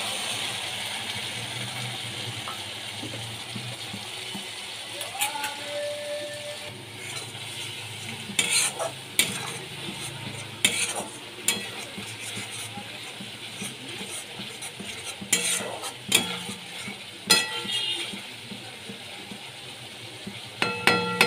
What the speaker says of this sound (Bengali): আগে থেকে ভিজিয়ে রেখেছিলাম, মশলাগুলো আমি দিয়ে দিচ্ছি